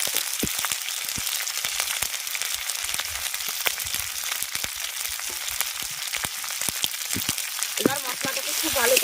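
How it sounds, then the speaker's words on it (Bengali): Spices fry with turmeric and chili powder in a pan, giving a loud, dense crackling sizzle with rapid pops throughout. A brief scraping stir comes near the end. "কষিয়ে নিচ্ছি মশলা"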